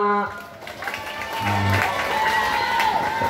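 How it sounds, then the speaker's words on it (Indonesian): Scouts at a Saturday Pramuka practice clap for the first player of a game, a brisk burst of group applause mixed with tonal sounds and a voice. "Tepuk tangan dulu untuk pemain pertama."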